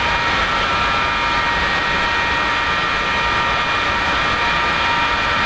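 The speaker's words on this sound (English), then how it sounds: "Activate external airflow to the engine." Steady, loud roar of external air blowing into the left engine of an F-4E jet in the DCS combat flight simulator, a broad continuous rush with a faint tonal whine, unchanging throughout and with no voices.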